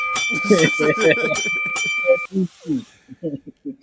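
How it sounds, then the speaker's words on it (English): A bright, sustained ringing tone sits over lively overlapping talk, sounding like a bell struck a few times before fading as voices carry on. "Ring the bell."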